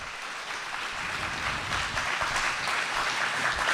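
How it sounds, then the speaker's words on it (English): Steady applause from a live audience at an outdoor debate event in Seattle, with dense clapping that holds loud and even and swells slightly toward the end. "Keep clapping. Keep clapping."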